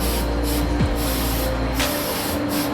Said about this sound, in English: They actually spray it through a thing like a paint gun.